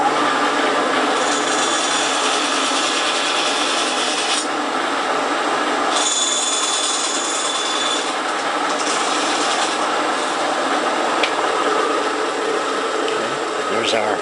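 A bandsaw cuts a notch into a piece of wood used for hand-drill friction firemaking, giving a loud, steady grinding rasp that runs continuously with slight shifts in tone.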